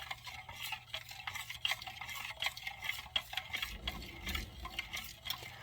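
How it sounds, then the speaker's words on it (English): A bowl of Asian noodle pasta salad is stirred, with repeated quick clicks and soft scrapes of a utensil against the dish, close and fairly quiet, growing busier toward the end. "give it a stir here just to mix it all up"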